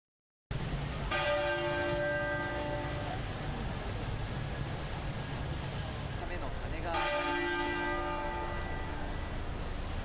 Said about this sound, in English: All church bells were ordered to toll for an hour straight to signify the death of the monarch.